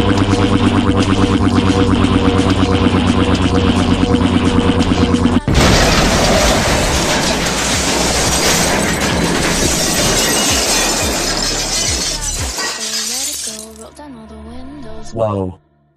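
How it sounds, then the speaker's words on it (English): A heavy energy weapon called the Psycho Destroyer fires in a video game, a loud sustained blast that cuts in sharply, roars for several seconds with crashing impacts, then fades into trailing electronic tones. "Psycho Destroyer, ready to fire."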